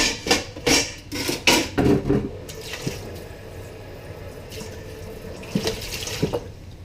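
Dishes are washed by hand in a kitchen sink under a running tap, with clattering plates and splashing in the first few seconds. Quieter water flows and occasional knocks of crockery follow.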